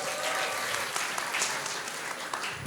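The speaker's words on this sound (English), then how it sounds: "Please give them a hand of applause." A lecture audience claps for the ushers, a dense, even burst of applause from many hands filling the room throughout.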